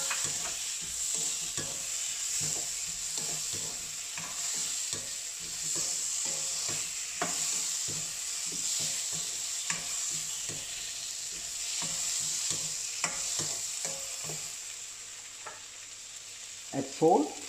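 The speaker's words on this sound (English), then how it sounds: "then add my spices, cardamom, cloves and fenugreek." Cardamom, cloves and fenugreek fry in a pan with a low, steady sizzle. Repeated light stirring taps and scrapes recur over it, and it all fades toward the end, where a short louder rustle sounds.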